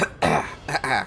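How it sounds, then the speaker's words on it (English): A person coughs twice, close and sharp, the bursts separated by a short pause with a throaty, rasping edge. "Cough, cough."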